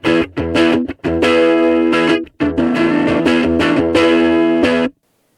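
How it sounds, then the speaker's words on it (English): Electric guitar through a Boss MG-10 practice amplifier with the volume cranked to 10 and gain low, giving a loud, sustained crunchy distortion on strummed chords, with a brief gap after the first second and a pause mid-phrase. "Now, I think with this at 10, we have a usable musical sounding distortion"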